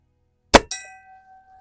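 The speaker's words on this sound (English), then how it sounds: "let's ring that gong again" An airgun pellet strikes a steel gong, giving one sharp metallic clang followed by a second hit, and a bright ringing tone that fades away over about a second.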